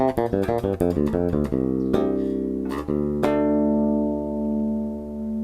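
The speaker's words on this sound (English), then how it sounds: "Mid-range dominant, kind of a nasal sound with your in the face, cutting through the mix kind of sound." Electric bass plays a fast run of plucked notes, then a few longer ringing ones. The tone is a punchy, nasal, burpy, midrange-heavy sound, moderately loud, with no talking.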